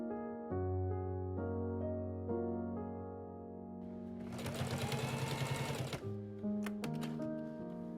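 A domestic sewing machine stitches fabric pieces for a homemade dress form, starting with a low steady whir, then a rapid burst of loud stitching clatter, then a few slower stitches and clicks.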